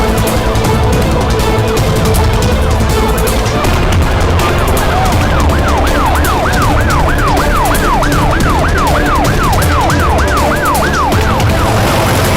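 An ambulance siren wails in a steady rising-and-falling pattern over dense, loud traffic and road rumble, the repeated cycles continuing without pause through the second half.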